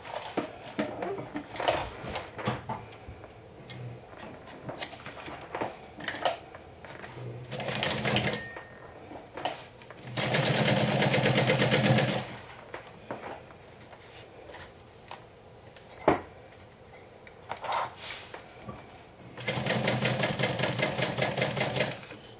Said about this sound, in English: I'm going to top stitch along this edge and along this edge